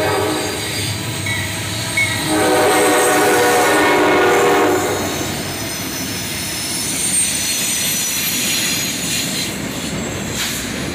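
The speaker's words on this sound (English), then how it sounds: "gp33 Eco and its road slug unit, followed by an SD60E, originally built for the Chicago Northwestern, and an ES-44DC" A Norfolk Southern freight train led by a GP33 Eco locomotive with its road slug rolls past close by, a loud, steady rumble of wheels and engines with a sustained horn blast early on.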